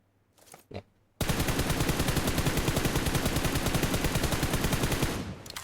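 In PUBG Mobile, a couple of soft taps come first, then a close, loud burst of rapid automatic fire hammers steadily for about four seconds before stopping abruptly.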